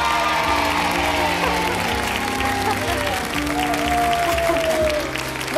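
A crowd at a carnival show applauds and cheers for the presenter, a loud, sustained wash of clapping and whoops mixed with music and voices.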